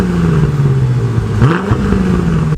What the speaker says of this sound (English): come on, man, let's get the engine started.